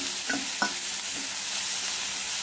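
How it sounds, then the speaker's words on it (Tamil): Onions frying in sesame oil in a kadai, a steady close sizzle throughout with a few soft stirring scrapes near the start. "ரெண்டுல இருந்து 3 டீஸ்பூன் நல்லெண்ணெய் ஊத்திக்கலாம் இதுக்கு அப்புறம் மிக்ஸில போட்டு வச்சிருக்கிற பெரிய பெரிய நறுக்கி வச்சிருக்க பெரிய வெங்காயத்தை சேர்த்துக்கலாம்"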